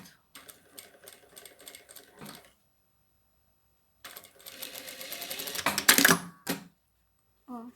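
A sewing machine runs rapidly while stitching fabric strips right sides together for a small handbag. There are two close, loud runs of fast, even stitching with a silent pause between them.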